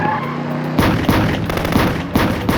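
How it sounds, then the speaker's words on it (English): Rapid gunfire crackles in a close, loud burst of repeated shots during a tense armed confrontation, layered over a dense noisy background. "In the barrage of gunfire that followed, Lieutenant Robert Paz"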